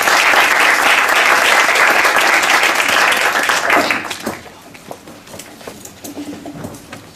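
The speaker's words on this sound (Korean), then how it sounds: "그럼 우리 박수로 환영." An audience at a KAIST lecture by a Ministry of Foreign Affairs official bursts into dense, loud applause to welcome the speaker. The clapping holds strong for about four seconds, then thins into scattered claps that trail away.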